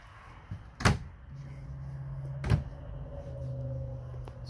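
Main entry door of a 2020 Winnebago Minnie 2301BHS bunkhouse travel trailer opened and shut: two sharp knocks of the latch and frame about a second and a half apart, close by, over a low steady hum.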